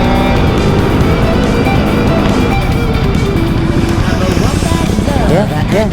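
Throaty engine roar of a 2024 Ducati Hypermotard 950 SP while riding, loud and close with rising revs and gear changes, under wind buffeting and a rider talking.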